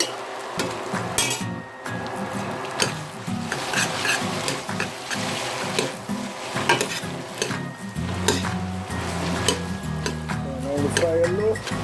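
Noodles and vegetables stir-fried together for chow mein over low heat, a continuous sizzle with rhythmic stirring scrapes and clinking pan sounds, with some voice in the background.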